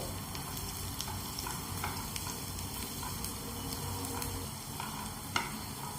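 Chicken 65 with curry leaves is stirred in a hot pan, a soft continuous sizzle under scattered light scrapes and taps from the spoon, with no voices.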